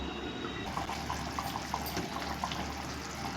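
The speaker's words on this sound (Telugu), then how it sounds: "బాగా ఉడుకుతుంది, కొత్త కొత్తలాడుతుంది." Fish curry (pulusu) made with Sunday-special fish, bubbling as it boils in a pot. A steady low simmer with soft, irregular small pops and gurgles.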